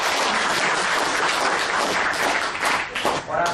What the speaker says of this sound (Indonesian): Tepuk tangan untuk Mas Mas.